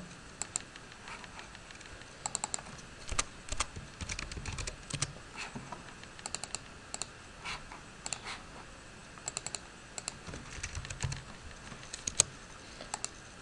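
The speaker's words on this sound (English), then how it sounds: "I use the keyboard and just position it" Computer keyboard typed on while working in Photoshop, giving irregular bursts of crisp, close key clicks with short pauses between them over a quiet room.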